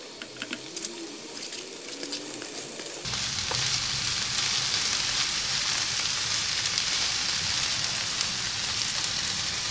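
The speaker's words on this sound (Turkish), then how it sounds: "Ispanakları soldurana kadar kavuralım" Spinach sautéing in a pan with onions, a loud broad hiss of frying that swells as the leaves go in and then holds steady, close and alone.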